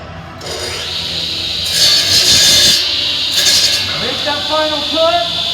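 A saw cuts a dado groove in wood, rasping strokes building to a louder stretch mid-cut before easing, with someone talking over parts of it.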